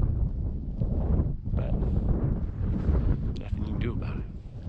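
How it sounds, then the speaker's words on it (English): Desert wind during a mountain lion hunt with mules and hounds, a steady loud roaring rush buffeting the microphone throughout, with faint clatter mixed in. "I hate the wind, just hate the wind."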